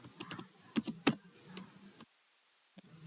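Close, crisp clicking of computer keyboard keys as a value is typed into an Excel cell, in an irregular burst of strokes followed by a brief silence and one last tap.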